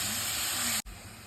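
Jaggery and grated coconut frying in a pan give a dense, steady sizzling hiss up close. It cuts off abruptly partway through, then a quieter background continues.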